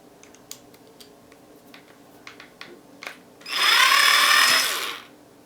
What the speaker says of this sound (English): I'm going to show you what happens when you drill the screw in